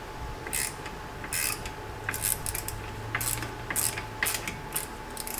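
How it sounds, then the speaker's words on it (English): A small wrench ratchets to loosen a bolt during a brake pad swap on a Chevrolet Camaro SS 1LE, giving faint, repeated clicking bursts over a steady background hum. "Let's go in with a smaller wrench and make this an easier job."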